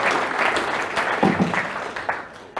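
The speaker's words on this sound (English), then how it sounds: "Round of applause again." Applause from an audience after a presentation, a moderate burst of clapping that carries on steadily and thins slightly toward the end.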